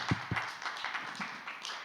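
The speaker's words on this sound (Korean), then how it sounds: "우리 제자 삼아 주신 하나님께 영광의 박수를 드리겠습니다" Brief scattered clapping during a Korean church youth worship service: a few sharp claps up close, then a light, thin patter of hands fading over under two seconds, no talking.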